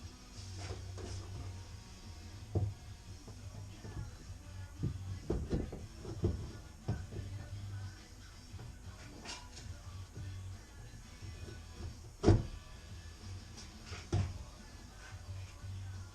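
A door goes onto a CF Moto UTV with scattered knocks and clunks, one sharp bang near the end, over a low steady hum.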